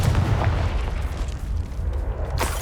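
A Confringo fire-blast spell explodes in the video game Hogwarts Legacy, a loud, sustained booming roar with heavy low rumble throughout and a sharper burst near the end.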